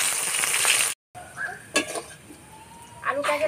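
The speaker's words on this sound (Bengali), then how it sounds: "প্রথমে আলুগুলো দিয়ে ভেজে নেব।" Potatoes fry in hot oil in a pan for a fish curry with taro, giving a loud, steady sizzle for about a second. After a short break the frying turns quieter, with scattered clinks of utensils and stirring.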